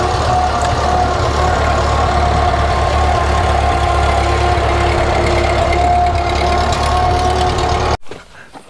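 An old shredder runs behind a tractor on a homestead, a loud, steady mechanical drone with engine knock that carries on unbroken for about eight seconds before cutting off abruptly.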